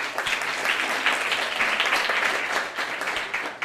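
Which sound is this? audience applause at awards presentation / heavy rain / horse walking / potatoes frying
audience applause at awards presentation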